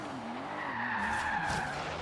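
Tires squeal in a sustained drift as a car slides through a corner in Forza Horizon 3, with a steady engine drone beneath the screeching pitch that wavers and bends throughout.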